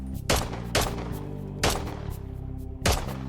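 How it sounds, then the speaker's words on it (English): Gunfire in Call of Duty Modern Warfare 3 aimed at hanging icicles on rooftops: four loud, sharp shots spaced about a second apart, each with a booming tail. "whenever I'm shooting these hanging icicles from rooftops, you can actually knock the icicles off"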